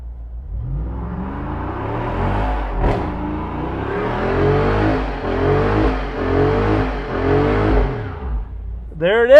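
A 2021 Jeep Wrangler Rubicon 392 with its Hemi V8 revs hard and holds against the rev limiter in repeated pulsing bursts, loud and close, with a brief voice near the end.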